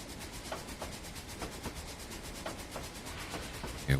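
A train runs in the Trainz 2019 simulator game, giving a steady rolling rumble with regular clickety-clack beats from the wheels, moderately loud and with no talking.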